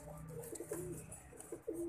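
A few brief, low coos from a female Teddy-breed pigeon sound close by, with soft background noise between them.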